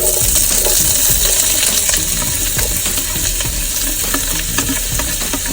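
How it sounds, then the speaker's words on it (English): Onions and sausage browning in an oiled pan for a three-meat spaghetti sauce, giving a loud, steady sizzle with scattered crackles and a few stirring scrapes throughout. "So now we're going to brown our onions and our sausage."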